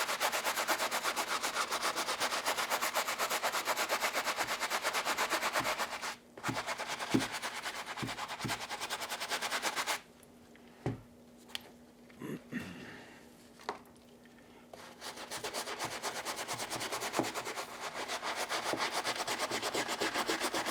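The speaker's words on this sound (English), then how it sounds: "the Dawn dish soap and some rubbing here. Let's just hit the bottom up." Steady, loud brushing scrubs the bottom of a LeBron Space Jam sneaker sole with Dawn dish soap, a continuous rough rubbing that pauses midway for scattered knocks and taps before resuming.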